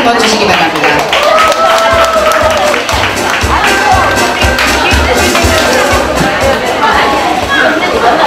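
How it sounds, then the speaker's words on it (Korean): A large indoor audience claps and cheers for three newly appointed vice presidents at an association workshop, sustained loud applause mixed with crowd babble and some voices throughout. "오늘 위촉되신 세 분의 부회장님들께 앞으로 협회를 위해서 무궁한 발전을 위해서 열심히 일해달라고 큰 박수 한번 주시기 바랍니다"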